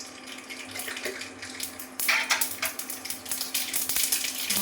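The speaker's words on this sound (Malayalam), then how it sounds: "കടുക് പൊട്ടിയിട്ടുണ്ട്" Mustard seeds crackle and pop in hot oil, a dense hissing sizzle that grows louder halfway through, with quick sharp pops close by and no voices.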